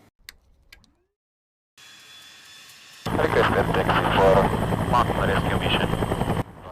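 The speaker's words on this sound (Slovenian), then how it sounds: "Helikopter Augusta Bell 212, ki je bil izdelan v letu 1980, se poslavlja in zasluženo selja v muzej." A 1980 Agusta Bell AB-212 police helicopter runs loudly and steadily with a dense engine and rotor roar that cuts in abruptly after a quiet lead-in, under a faint voice.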